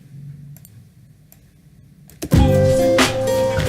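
Two sets of delayed, panned hi-hats in a chill guitar beat made in FL Studio, entering after a quiet start of sparse ticks and then playing loud and dense alongside the full beat.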